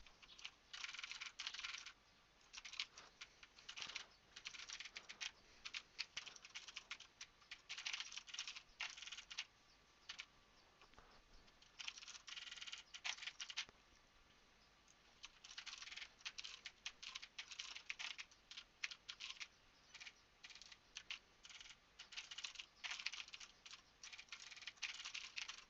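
Steady, rapid keystrokes on a computer keyboard as code tests are written, continuous clicking with brief pauses, close and fairly quiet, with no voices.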